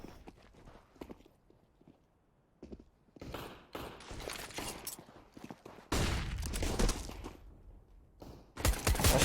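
Rapid gunshots in a Counter-Strike match on the Dust2 map, sharp bursts of fire near and far with a loud sustained volley toward the end, scattered clicks and footsteps between.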